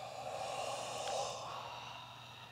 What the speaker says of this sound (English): Breathe out your mouth